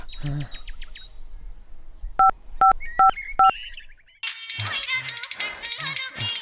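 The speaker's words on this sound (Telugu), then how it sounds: "ఫోన్ వచ్చింది." A mobile phone rings with four short, evenly spaced electronic beeps, close and clear, set between bursts of chirpy, bird-like sounds.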